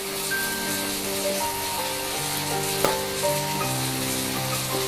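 Garlic paste frying in a pan with other ingredients, giving a steady close sizzle and crackle throughout, with a soft tonal background and one brief sharper clatter midway.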